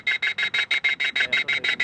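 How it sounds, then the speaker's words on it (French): Shrill electronic alarm that airport firefighters use to scare birds away, pulsing in a steady rapid rhythm of about a dozen bursts in two seconds, loud and close with no talk. "Avec cette alarme stridente"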